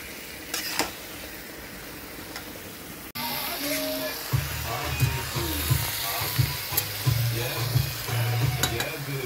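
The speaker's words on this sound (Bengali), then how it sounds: "এঁচোড়টা কষিয়ে নিচ্ছি।" Green jackfruit sautéed in a pan, a steady close frying hiss with scraping stirring strokes and a low rhythmic whirring underneath, faint voices at times.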